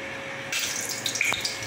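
Tap water starts abruptly and runs in a steady hiss while bottles are filled in a home kitchen early in the morning, close and alone, with no talk.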